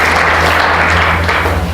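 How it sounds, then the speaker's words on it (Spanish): Church congregation breaking into loud, sustained applause during a Spanish-language sermon, dense steady clapping filling the whole moment without speech. "¿Cuánto le da un aplauso fuerte al Señor?"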